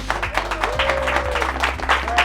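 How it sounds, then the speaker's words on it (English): Applause from an audience honoring students at a project presentation, a steady wash of many hands clapping under a sustained background tone. "a big and sincere applause"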